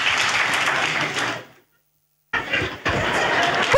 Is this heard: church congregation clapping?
yes